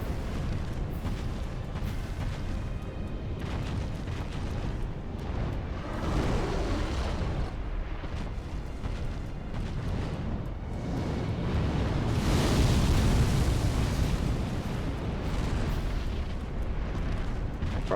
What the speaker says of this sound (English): I guess you can decide your explosion goes out that far today.